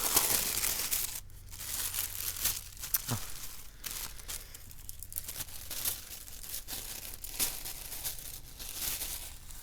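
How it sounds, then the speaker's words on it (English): Paper being torn and crinkled while a tarot card deck is unboxed, a steady close rustling with sharper rips scattered throughout, no talking. "I hate to rip the paper."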